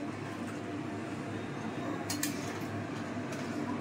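About 2.5 kg of chicken is sautéed in a pot at home, a soft continuous sizzle with a few light clinks of a utensil against the metal, quiet and close.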